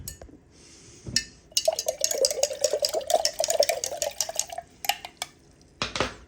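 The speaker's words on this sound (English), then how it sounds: "we're just going to go ahead and stir it up pretty good" A spoon stirs and clinks steadily against the sides of a jar of water with powder dumped in, a busy run of close clinks and swishes for several seconds, with a few separate taps before and after.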